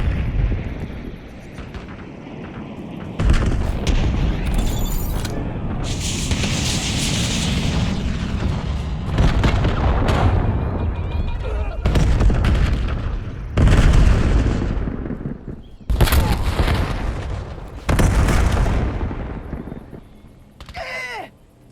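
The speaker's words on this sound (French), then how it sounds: "Déployez un Hellstorm sur ma position." Hellstorm missile strikes in Call of Duty Black Ops 7 land as a run of heavy booming explosions, several loud blasts in succession with rumbling tails and crackling debris between them.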